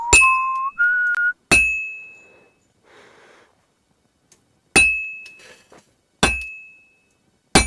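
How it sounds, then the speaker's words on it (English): Hammer strikes on metal at a blacksmith's anvil in a medieval forge game, five sharp ringing clangs spaced unevenly with quiet gaps, preceded by a short whistled tune. "I have to hammer it more evenly."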